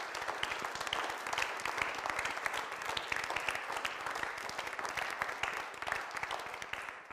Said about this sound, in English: One more hand for them.